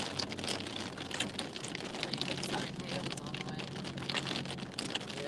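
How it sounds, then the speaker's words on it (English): Heavy rain with large drops drums steadily on an ambulance driving through a downpour, a dense continuous patter with low road rumble beneath, and voices murmur faintly in the cabin. "That's some thick ass rain."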